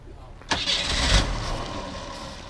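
A 1985 Ford Mustang Fox body V8 catching on a start attempt, a sudden crank that rises into a close, rumbling idle, with voices nearby.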